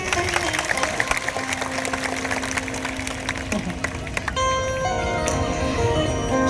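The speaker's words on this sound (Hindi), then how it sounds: "ताली बजा लो।" Audience clapping at a religious discourse, a continuous patter of many hands mixed with sustained tones and music that grows fuller partway through.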